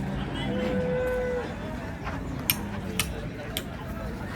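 A cow at the Baramati cattle market gives a low, drawn-out moo early on, followed by scattered light ticks and clicks over steady market hubbub.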